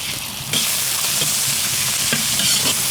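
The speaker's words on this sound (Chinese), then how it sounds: "锅里倒点油，油后下入姜末、蒜末、小米辣，炒香以后下入肉末" Minced meat stir-fries in hot oil in a wok with ginger, garlic and small chilies: a loud, continuous sizzle with scraping stirring strokes that intensifies after a brief quieter start.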